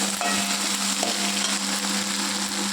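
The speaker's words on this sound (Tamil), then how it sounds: "வெண்டைக்காயும் இதெல்லாமே நல்லா வதங்கணுங்க" Onions and okra sautéing in a pan, a dense, steady sizzle heard close up, with a faint constant hum underneath and a few light scrapes of a spatula.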